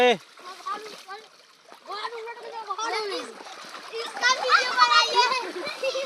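A child splashing in rainwater outdoors after heavy village rain, with choppy splashes that build toward the end and a voice and chatter mixed in.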